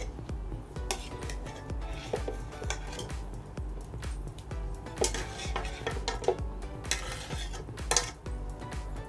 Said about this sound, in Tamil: இப்போ கட் பண்ண பீசஸ்லாம் ஜாரில் போட்டுக்கலாம்.